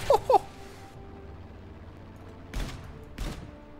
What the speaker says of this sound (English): These cannons, man.